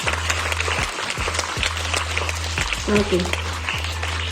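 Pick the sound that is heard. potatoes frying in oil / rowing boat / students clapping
students clapping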